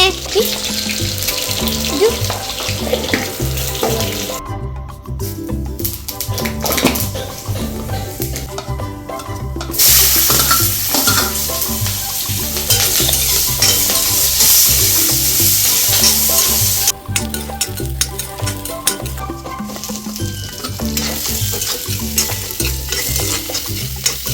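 Egg frying in a pan for an egg and spinach curry, heard as a steady close sizzle with stirring scrapes throughout and brief louder hissing bursts, with faint talk now and then.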